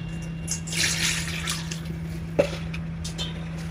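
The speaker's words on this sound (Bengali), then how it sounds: "এখন অল্প একটু জল দেব," A small splash of water trickles into a fish dish being cooked, a faint, brief pour with a single louder drip or plop partway through over a low, steady hum.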